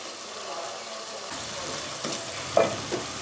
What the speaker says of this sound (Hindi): अब इसको हम इसमें जो है ना पालक को डाल के अच्छे से भूनेंगे इन सब चीज़ों के साथ